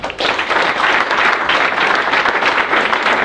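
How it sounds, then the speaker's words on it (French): Audience applause after a speech reacting to second-round municipal election results, a dense, loud, sustained clapping from a crowd that starts abruptly and holds steady throughout. "Merci de l'applaudir."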